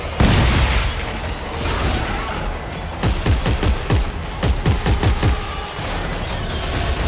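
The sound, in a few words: gunfire in video game Dead Space 3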